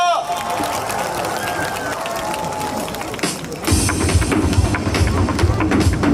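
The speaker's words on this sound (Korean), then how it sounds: "여러분의 큰 박수로 들어보겠습니다. 큰 박수 부탁드립니다." Festival audience at a Yangsan honorary ambassador ceremony clapping for a trot singer, steady applause that grows louder and fuller partway through.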